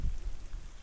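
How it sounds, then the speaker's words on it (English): Rain starting to fall outdoors in the mountains near Maroon Bells, Colorado, a soft steady patter of drops with low wind rumble, faint and continuous with no voices. "I'm starting to feel some raindrops"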